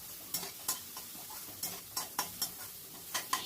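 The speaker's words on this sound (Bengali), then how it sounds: "আবারও মশলাটাকে ভালো করে কষিয়ে নেব।" Masala is stirred and sautéed in a pan, a soft background sizzle broken by a dozen or so sharp spoon scrapes and taps against the pan at an uneven pace.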